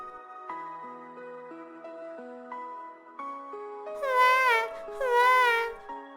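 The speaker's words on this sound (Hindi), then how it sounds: "बच्चा रो रहा है" An infant cries in a Hindi cartoon: two loud, wavering wails near the end follow a stretch of soft, steady tones.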